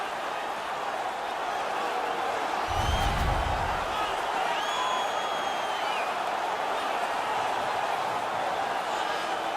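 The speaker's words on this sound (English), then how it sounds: "The home crowd is ecstatic. They're making all kinds of noise." A large hockey arena crowd roars steadily throughout, a dense wash of cheering and noise from the home fans at a Maple Leafs–Red Wings game, with a brief low thump near the start.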